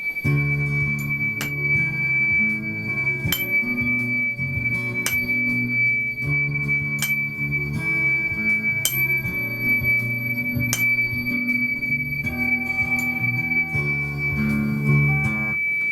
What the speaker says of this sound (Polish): To dźwięk tonacji D.